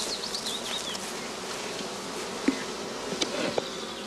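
Honey bees buzz around skep nucleus boxes set up outdoors, a dense steady hum with a few louder passes as individual bees fly close.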